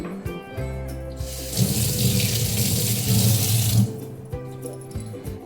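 Tap water runs over a pomegranate being washed at a kitchen sink, a splashing gush lasting about two seconds amid a low background hum, with quieter handling before and after.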